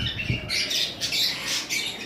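Two female turquoisine parrots give short, bright squawks and chirps at close range, several quick calls in uneven bursts with no talk.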